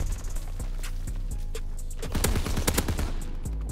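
KG M-21 rifle firing in the Call of Duty WW2 video game: rapid bursts of loud gunshots over dense game background noise, with the heaviest volley in the second half.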